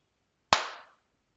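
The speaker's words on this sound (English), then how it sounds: "Clap and notice the value." A single sharp hand clap, close and loud, sounds once in an otherwise quiet setting to trigger a sound sensor on a kids' robotics build, then decays quickly.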